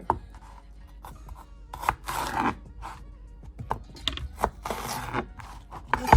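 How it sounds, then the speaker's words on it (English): A knife slices an onion on a wooden board in a home kitchen, making a series of close, irregular crunchy cuts and rubbing scrapes with short pauses between strokes. "our onion. We're just going to cut it like so."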